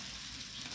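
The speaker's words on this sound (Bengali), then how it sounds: "আমি ভাজা ভাজা করতেছি" Chicken frying in a pan for a red-gravy chicken curry, a steady soft sizzle with low crackle running through the short stretch, no voices.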